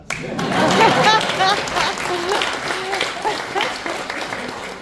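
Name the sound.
audience clapping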